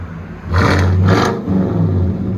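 A Chevy Silverado pickup with a 6.2L V8 and aftermarket exhaust revs twice in quick succession, each blip a loud, throaty roar, then settles back into a deep rumbling idle, close by with no talking.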